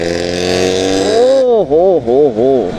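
Motorcycle engine with a loud silencer at a rally in Jammu, rising from a steady hum into repeated revving surges, three or four throttle blips close to the mic, with someone speaking briefly before the revs.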